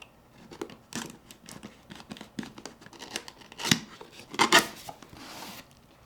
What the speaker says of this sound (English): This one does come with a seal sticker on it, so we'll go ahead and remove that first.